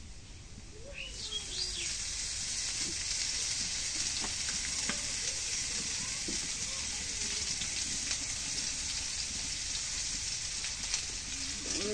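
Oil sizzles steadily in a hot kadai while silver carp is being cooked on a rainy day, a dense continuous hiss running unbroken throughout, with faint bird chirps in the background and no talk.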